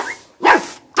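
A pet dog gives a few short, close barks and yips in quick succession, with brief gaps between them.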